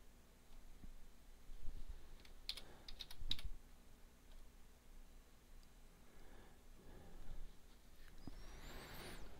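Sparse, soft clicks of a computer keyboard beside a flight-simulator setup, a few short clusters of keystrokes over a low background hum, quiet and close, with no speech.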